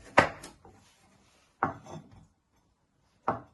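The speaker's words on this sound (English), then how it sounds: "once you have peeled your parsnips, you want to chop them down the middle" A knife chops through peeled parsnips on a wooden board: three sharp, separate cuts spaced over a few seconds, each a close, crisp thud with a short scrape after it, and quiet between.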